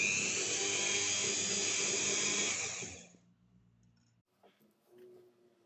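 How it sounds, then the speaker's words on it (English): A rotary tool smooths leftover solder and shaves down the stud of a handmade silver huggie hoop earring, a steady high whine for about three seconds that then cuts off, leaving faint clicks and handling. "Here I'm smoothing the overall solder leftover and shave off the stud"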